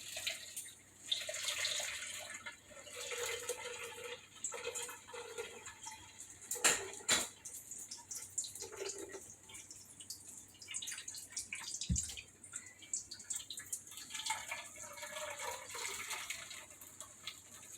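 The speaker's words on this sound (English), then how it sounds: "just do a little bit at a time into a cup and then just kind of drain and move and drain and move." Homemade almond milk drains through a strainer into a cup in small batches, with faint trickling and dripping liquid and occasional clinks of handling, close by with no talk.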